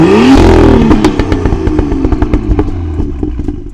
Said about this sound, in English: In sport mode, it brings it to life a little bit more, adding a little more volume and burbles because the flap in the valved exhaust opens up partially